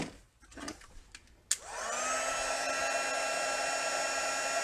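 A heat tool whirs up after a soft click and then blows steadily and loudly, melting white embossing powder on stamped paper in a crafting setup.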